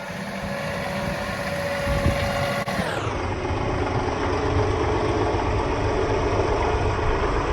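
A 38-horsepower John Deere 2038R compact tractor runs during heavy snowblowing, a steady loud engine drone whose pitch drops partway through, with no voices.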